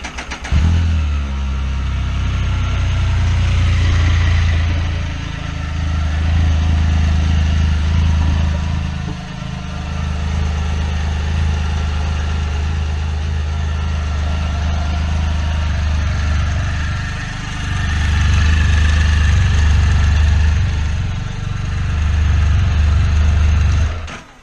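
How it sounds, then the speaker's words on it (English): A 2018 Can-Am Spyder F3-S sport three-wheeler's engine runs steadily close by, a strong low throb broken by a few brief dips and blips in revs, with no talk over it. "We'll start it up and let you see the headlights. Listen to the motor a little bit."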